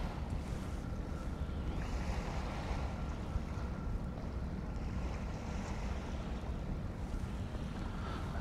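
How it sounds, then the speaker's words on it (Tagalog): Low ocean waves wash steadily against a ferry crossing toward Campbell River, mixed with a constant rumble of wind and engine. The sound is a broad, even rush with no voices. "Mababa ang alon."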